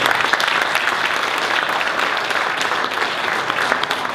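A State of the City 2016 audience applauds Mayor Scott Matas with steady, crowded clapping that fills the room for the whole stretch, with no voice over it.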